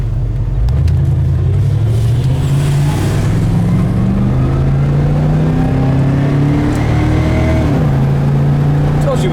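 A 1979 Camaro Z28 engine hums steadily while the car cruises down the road, its low rumble rising and shifting gently with gear changes, continuous and close throughout.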